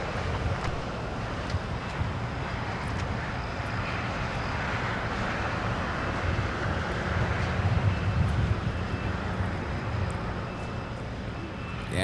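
A Delta Airbus A350-900 arriving at LAX from Shanghai, a steady broadband jet roar with wind buffeting that swells slightly toward the end, heard continuously from a distance with no talk.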